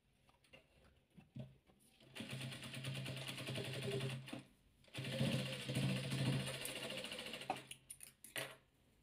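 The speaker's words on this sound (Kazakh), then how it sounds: "Біз серийін тігіп жатырмыз." A sewing machine stitches a seam on a soft fabric ball for children in two sustained bursts of rapid, even needle clatter. Short pauses and quiet handling sounds separate the bursts, all close and fairly soft.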